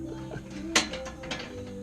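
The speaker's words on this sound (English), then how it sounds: "Ratchet it together." Ratchet wrench clicks while a clamp is tightened on a Dodge Challenger SRT, a few brief metallic clicks and a sharp clank, fairly faint with no talking.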